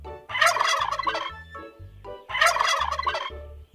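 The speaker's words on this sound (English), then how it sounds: "Male turkeys make a loud gobble sound." A male wild turkey gobbles twice, each call a loud, rapid, rattling burst close by, separated by a short pause.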